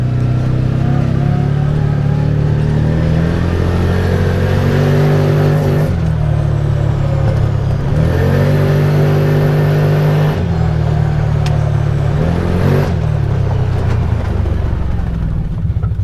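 A Massimo MSU 850 Crew side-by-side drives along a small road, its engine droning loudly up close and revving through several surges as it accelerates and shifts, with no talking.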